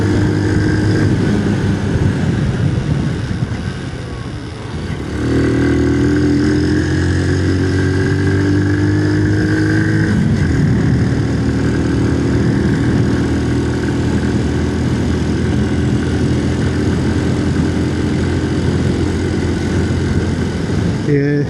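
Honda C90 motorcycle fitted with a new carburettor running steadily, its engine note rising in pitch around the five-second mark as the throttle changes, then holding a loud, even drone close by.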